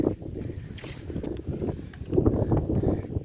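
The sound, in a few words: wind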